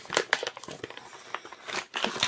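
A torn plastic bag crinkles and rustles in bursts of close, uneven crackles while a diamond art toolkit is pulled out from beneath it, with no talking.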